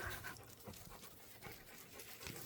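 Several dogs pant at a park, a fast, breathy rhythm close by that continues without a break, with no talking.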